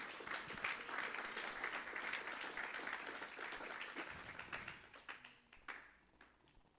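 A church congregation applauds during a sermon, with strong clapping that thins out toward the end.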